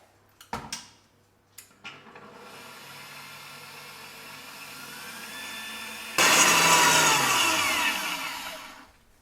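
An electric mixer whisks cheesecake batter with added flour, a steady motor whir that grows louder and harsher partway through, broken by a few clicks and knocks at the start.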